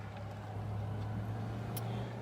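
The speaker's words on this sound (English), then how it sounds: "I apologize for any traffic noise that you hear" Faint, steady hum of street traffic outside an office, a low constant drone with a brief passing swish, no talking.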